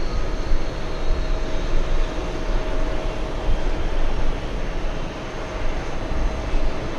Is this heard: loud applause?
no